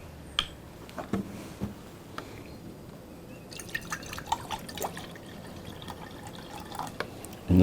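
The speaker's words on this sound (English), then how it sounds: "You know, to add that water." Water is poured and splashed into a cooking pot for orzo pasta, heard as quiet, irregular drips and splashes with faint knocks, fairly soft and close, with no talking.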